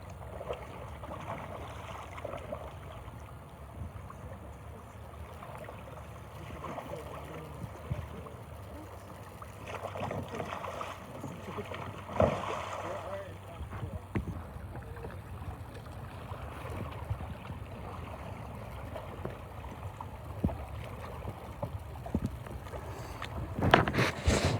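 Kayak roll practice on open water outdoors: low wind rumble and gentle lapping with intermittent sloshing and splashing as the boat turns over, plus a louder splash burst at the end; voices speak at times.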